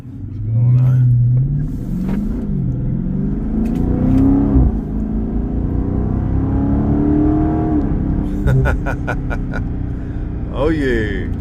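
Heavy exhaust rumble from a 2023 Chrysler 300C with a 6.4 HEMI V8 on a night drive, rising and falling through several revs from inside the car, with a brief higher rev near the end.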